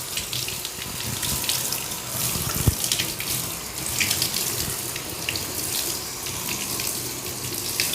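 Shower water runs steadily over houseplants being rinsed of soap, a continuous close splashing hiss with no talking.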